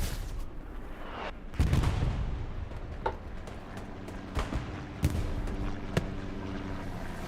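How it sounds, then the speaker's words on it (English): Long-range rockets and artillery in a large Hell Let Loose battle in Hurtgen Forest, with several loud booming launches and impacts scattered across a rumbling battlefield backdrop. "One long-range rocket."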